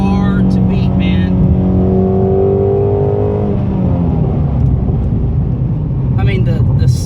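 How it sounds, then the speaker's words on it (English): A 2016 Shelby GT350 Mustang driven in third gear on a country road, its exhaust a loud, continuous drone that climbs in pitch and then eases off, with voices talking over it inside the car. "the exhaust sound is almost unbelievable"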